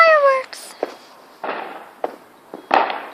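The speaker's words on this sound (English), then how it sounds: "Yeah, I'm getting fireworks." Bonfire Night fireworks in the UK crack and pop in a scattered series of sharp bursts, with a short whistling rise at the start.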